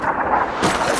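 Predator missile strike blast in the Call of Duty game Modern Warfare 3, on the Hardhat map: a broad, loud roaring burst that suddenly swells and brightens halfway through, with no voices.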